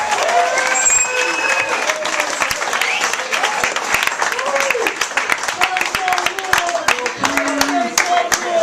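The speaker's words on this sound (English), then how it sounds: "Give him a round of applause." Loud, sustained audience applause and cheering fill a comedy club as a stand-up comedian is introduced, with crowd noise, whoops and a voice briefly calling out over the clapping throughout.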